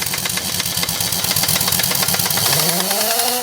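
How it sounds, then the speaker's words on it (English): An air compressor in a repair shop chugs as it builds pressure back up, a rapid, loud rhythmic pumping with a rising tone near the end. "sometimes if you deplete the compressor, you have to wait for the compressor to build back up to go again"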